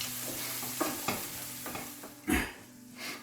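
Pasta sauce is stirred in a pan over medium heat, with a few distinct scraping spoon strokes over a soft, continuous sizzle and no talking.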